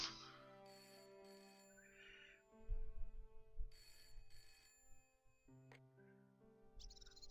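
An in-game telephone rings in Broken Sword: Shadow of the Templars, a huge weighty engineer's phone, heard as a few quiet electronic trills among soft game music, with no voices.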